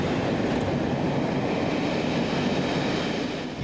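A loud train rumbles past close by, a dense, steady roar of wheels and engine that holds throughout and eases slightly at the very end.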